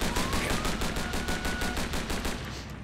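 Rapid, evenly spaced bursts of machine gun fire in the Spider-Man Shattered Dimensions video game, a loud continuous rattle of about a dozen shots tapering off at the end.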